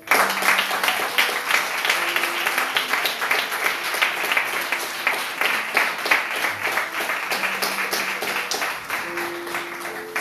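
Church congregation applauding steadily throughout, with dense continuous clapping and scattered cheering, loud and sustained.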